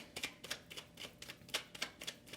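Tarot cards shuffled by hand in quiet, a steady run of soft, crisp riffling clicks repeating about every quarter second, close and faint.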